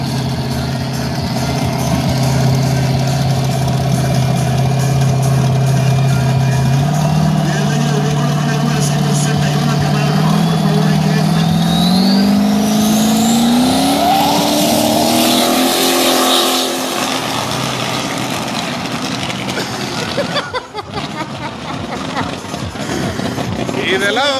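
At a Sunday drag racing event, a Chevelle launches with a loud engine roar that climbs in pitch as the car accelerates away and fades, while an announcer talks over it in Spanish.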